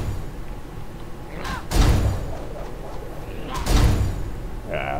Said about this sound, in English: I'm gonna pop Bladestorm, though.